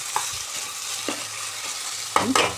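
A spoon stirs salt into a thick jackfruit curry masala paste in a pan, giving a few soft scraping strokes with a light sizzle underneath, close and fairly quiet.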